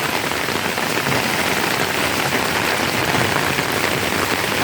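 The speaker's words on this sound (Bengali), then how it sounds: "এখানে আরও বৃষ্টিটা বেশি বোঝা যাচ্ছে" Steady rain falls through trees and dense greenery beside a road, a close, continuous wash of drops pattering on leaves with no pauses and no voices.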